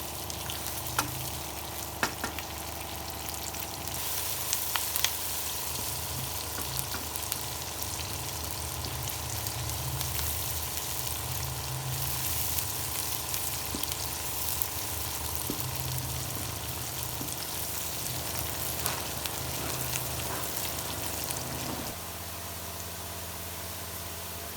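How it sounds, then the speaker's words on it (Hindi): Onions fry until brown in a pan for chicken and egg kofta, giving a continuous close sizzle with occasional stirring scrapes over a steady background hum. "प्याज हमारा फ्राई हो गया"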